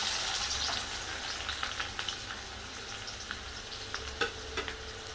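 Onion drops into hot oil in a kadhai for tempering, giving a steady close sizzle and crackle with small popping spits scattered throughout; no one speaks.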